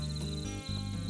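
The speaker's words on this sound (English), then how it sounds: "You can hear the crickets singing." Crickets chirp at night in a steady, high, continuous trill over a low background hum.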